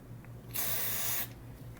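A single steady hiss of aerosol spray cleaning a switch in a Sanyo M Z52 cassette radio, lasting under a second, close and fairly loud over a low hum.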